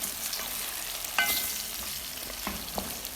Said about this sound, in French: Donc là on va rajouter l'ail et les pommes de terre. On va bien mélanger le tout